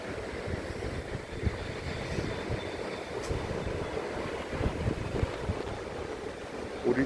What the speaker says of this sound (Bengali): আর এই হচ্ছে সমুদ্র।